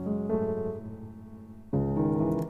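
Piano chords played dry with no transient boost, a sustained chord that changes partway with a fresh attack, moderately loud and alone with no talk.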